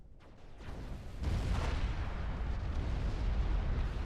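A grid-like tactical missile launcher fires in the strategy game Supreme Commander 2: a sharp launch burst, then a loud, sustained roaring rumble that carries on without voices.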